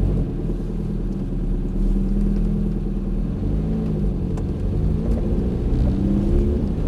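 A Ferrari 430 engine revs and accelerates gently in first gear toward the track, a steady close rumble with a rising whir.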